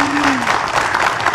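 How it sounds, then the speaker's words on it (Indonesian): Studio audience applause on an Islamic television talk show, a steady, loud wash of many hands clapping together throughout, with a brief voice or tone trailing off underneath at the start. "tepuk tangan dulu yuk."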